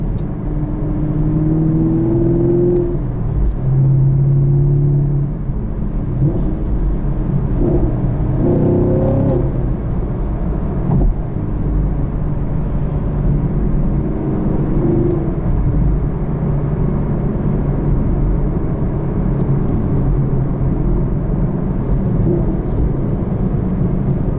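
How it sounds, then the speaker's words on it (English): Engine of a 2017 Chevrolet Camaro SS with a manual gearbox and LT V8, revving as it rev-matches through gear changes. Its loud, steady drone rises and falls in short blips from inside the car, with no talking. "That rev matching is out of this world."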